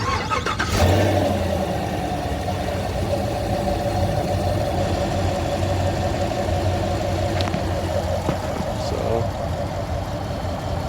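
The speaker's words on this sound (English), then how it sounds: "we're gonna just set this in the engine bay so we get a good start up" A 2019 Chevrolet Camaro engine starts with a sharp crank and catch, then settles into a steady, even idle that runs throughout with a faint vibration, close and fairly loud.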